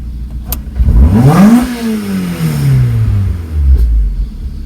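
Mazda Roadster with a Racing Beat header and Fidanza flywheel revs sharply: a loud close blip climbs quickly and falls back gradually, followed by a shorter second rise near the end.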